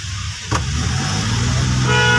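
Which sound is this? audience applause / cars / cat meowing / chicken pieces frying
cars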